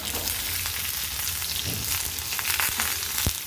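Onions sauté loudly in hot oil with Kashmiri red chilli, a dense close sizzle with a few spatula scrapes and one sharp knock near the end, for a shahi mushroom gravy.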